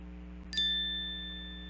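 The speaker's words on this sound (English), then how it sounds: "Don't forget to ring the bell buttons for the next notification." A single bright notification bell ding strikes once and rings out with a clear, slowly fading tone over a low steady background hum.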